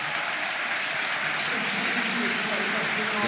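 A football crowd at Preston North End against Leeds United applauds a player being substituted, a broad steady roar of clapping across the stadium while a commentator talks over it.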